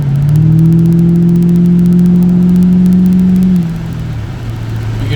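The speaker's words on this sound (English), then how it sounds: "Spinning the tires the whole way." A 2007 Mustang GT accelerates hard on a wet road with its tires spinning, the engine holding a loud, steady high drone close by before dropping off sharply near the end.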